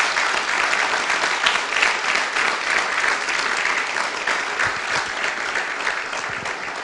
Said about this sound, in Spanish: denle un aplauso al Señor, por lo menos regálenle un aplauso al Señor.